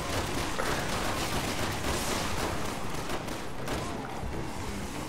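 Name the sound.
guns firing in video game Resident Evil 6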